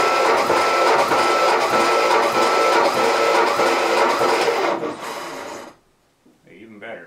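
A boat engine is cranked over by its starter during a compression test on cylinder two, giving a loud, steady, rhythmic churning for about five seconds before it stops, followed by a brief voice.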